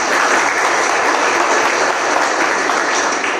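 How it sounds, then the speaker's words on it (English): A hall full of delegates at an African tax administrators' master class gives a sustained round of applause. The dense, even clapping stays loud and unbroken for a few seconds, with no talk over it. "Give them a round of applause"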